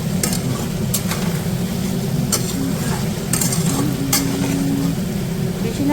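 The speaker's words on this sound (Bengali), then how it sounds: "এবার এগুলোকে এই মশলার সাথে মিক্স করে ভালো করে নাড়াচাড়া করে" A spice paste of turmeric, cumin and coriander sizzles steadily in hot oil while a spoon scrapes and clicks against the pan in a loose, repeated rhythm, close and continuous.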